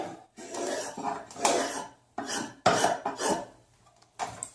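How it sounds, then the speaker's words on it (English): A spokeshave set very shallow shaves the flat sides of a carved wooden cooking spoon, giving a series of close, rasping strokes separated by short pauses, with no talk. "you can use your spoke shave"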